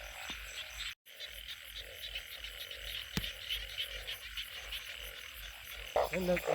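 Frogs croak repeatedly near water, a dense chorus of rasping calls over steady background noise, briefly cut by a dropout and growing louder at the end.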